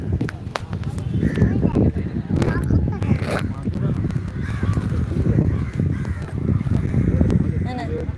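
Harsh crow caws repeat over and through a voice talking nearby, loud and close.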